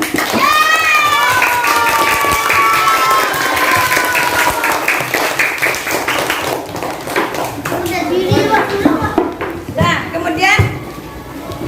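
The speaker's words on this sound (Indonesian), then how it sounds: "tepuk tangan" A classroom of pupils claps hands together in a burst of applause, mixed with children's voices and chatter over the clapping, fading toward the end.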